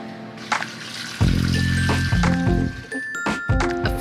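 Water pours and splashes into a big bowl for donut dough at a donut shop, a steady gushing stream with metallic clinks and dings around it, close by.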